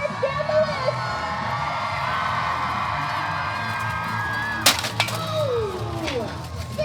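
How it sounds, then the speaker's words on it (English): Crowd at a medieval faire screaming and cheering as jousting knights charge down the list, a sustained loud roar with a sharp crack of lance impact near the end. "scream at the top of your lungs for your knights as they charge down the list"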